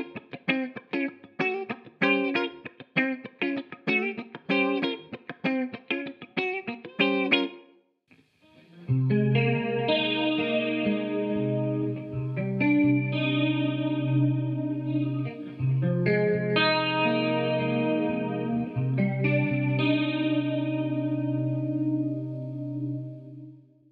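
Guitar through a Sonicake modulation pedal: first a choppy, pulsing run of short tremolo-like notes, then after a brief gap, lush swirling sustained chords with chorus and echo, played alone and up close.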